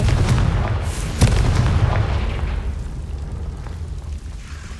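A Confringo fire spell detonates in the video game Hogwarts Legacy, landing as one sharp, loud boom that rolls into a rumbling tail and fades over a few seconds.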